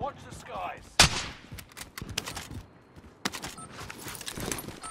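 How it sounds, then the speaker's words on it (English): Scattered sniper gunfire in Call of Duty Warzone, a sharp crack standing out near the start and a few more shots and impacts later, mixed with game ambience and footsteps, with no talk. "I'm getting sniped at from somewhere else"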